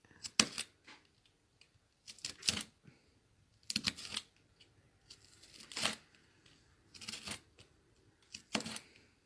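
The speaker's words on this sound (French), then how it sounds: "avec mon cutter, je fends" A cutter knife slits through fabric for a handmade Japanese-style sponge: six short, close rasping strokes spaced evenly, each a brief tearing burst with quiet pauses between.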